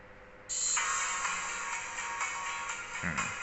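Tinny music starts abruptly from the small built-in speaker of an Amazfit Cheetah Pro smartwatch and plays steadily, thin and bright with little bass, close by and alone.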